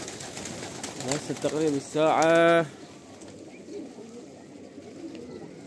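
Pigeons coo in short, throaty rolling calls close by during a sunset hunting outing, with someone speaking Arabic over and around the birds.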